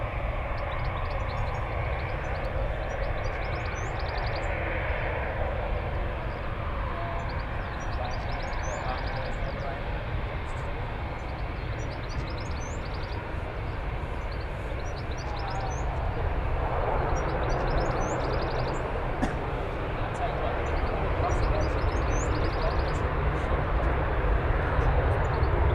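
A Ryanair airliner coming in to land at Manchester Airport produces a continuous distant engine rumble that swells slightly toward the end, under occasional talk nearby.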